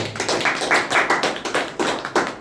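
Rhythmic clapping from a church congregation praising the Lord, steady repeated claps filling the room at a lively pace with no talking over them.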